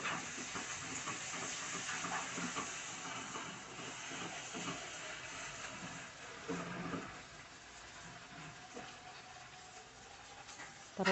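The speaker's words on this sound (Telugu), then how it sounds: "ఇప్పుడు అల్లం వెల్లుల్లి పేస్ట్ 1 స్పూన్ వేసుకోండి. పచ్చివాసన పోయే వరకు ఫ్రై చేయండి." Ginger garlic paste frying with cooked tomato masala for tomato masala rice, a continuous soft hiss and sizzle with faint stirring clatter, steady and close, ending in a brief louder knock.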